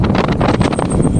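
Strong wind buffets the microphone continuously on a foggy road near a bridge with passing vehicles, a dense, loud rumble filling the whole clip with no voices.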